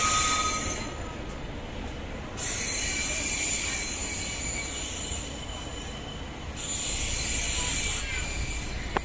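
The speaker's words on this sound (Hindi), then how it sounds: "तो बरेली से भुज की चलने वाली ट्रेन आला हजरत एक्सप्रेस जा रही है।" The Ala Hazrat Express, running from Bareilly to Bhuj, departs a station with loud, sustained wheel squeal and rumbling railcars, rising and falling as the carriages roll past close by.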